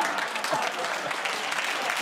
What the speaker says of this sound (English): I always forget politicians need the clap at the end.